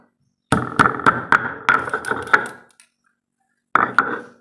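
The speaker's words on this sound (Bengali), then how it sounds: "সব একসাথে শুকনো লঙ্কাটাকে এইভাবে গুঁড়ো করো" Dried chillies are pounded in a series of sharp, close thuds, about eight quick hits in a row, a pause, then two more.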